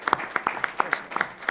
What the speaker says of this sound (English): we just need a round of applause for Heather